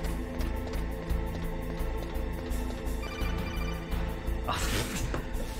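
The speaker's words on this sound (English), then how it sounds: "Enough with the phone!" A telephone rings in the video game Metal Gear Solid, with repeated electronic ring bursts in a steady rhythm, loud over game music, and a short noisy burst near the end.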